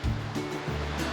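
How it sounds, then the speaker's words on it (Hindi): Waterfall water rushes over rocks on a hill slope near a village, a close, steady wash of broadband noise. "जहाँ पर झरने का जो पानी है कल कल बहते हुए आगे बढ़ रहा है"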